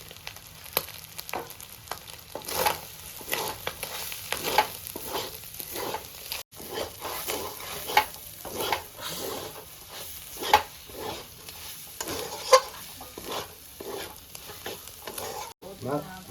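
Chicken keema frying in a pan with a soft continuous sizzle, broken by repeated scraping stirs at an irregular rhythm, close and fairly quiet with no talking.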